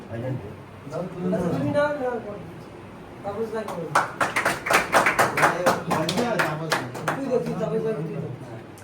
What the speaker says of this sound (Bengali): একটু হাততালি দেবেন